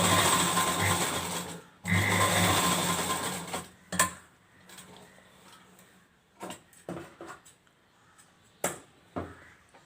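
A sewing machine stitches a lehenga dress in two sustained whirring runs, stopping and restarting, followed by scattered clicks and handling knocks as the fabric is adjusted; no talking.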